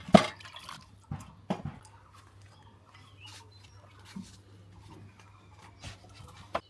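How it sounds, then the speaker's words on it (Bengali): Guavas are rinsed by hand in water, giving scattered small splashes, drips and sloshes at irregular intervals, close and fairly quiet against a faint steady hum. "পেয়ারাগুলো ভালো করে আমরা ধুয়ে নিয়ে"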